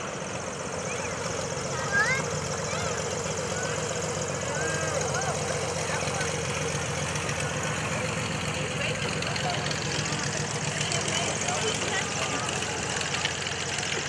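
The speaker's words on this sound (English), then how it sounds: "Big engine, big propeller, and big airplane." A Grumman TBM Avenger's big engine drones steadily and loudly at an airshow, with a throbbing propeller hum throughout without pause, and a voice talks over it.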